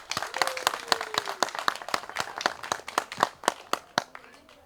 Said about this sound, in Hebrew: ואנחנו מוחאים לכם כפיים באמת בשמחה גדולה